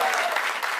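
Short burst of audience applause at a comedic song performance, loud and dense clapping that sounds close and continuous, cut off abruptly at the end.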